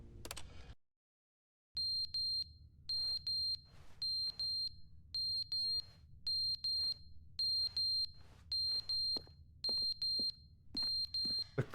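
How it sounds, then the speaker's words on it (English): In the video game The Stanley Parable: Ultra Deluxe, a loud electronic alarm beeps in a long series of regular, evenly spaced pulsed bursts after a brief silence, with a steady low hum underneath. "It's a really loud beep."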